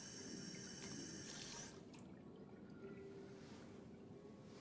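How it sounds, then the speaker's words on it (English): Faint, distant water trickles and splashes in Yakuza: Like a Dragon, a soft flowing wash that drops a little quieter partway through. "Good sound design on that water, if not the greatest."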